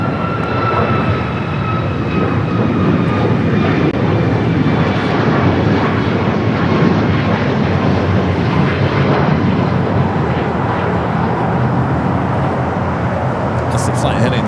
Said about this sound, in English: That's the flight heading to Portland.